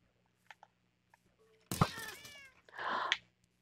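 A cat meowing in a video game, with a few faint clicks first, then a loud drawn-out meow and a second rougher cry, close and alone.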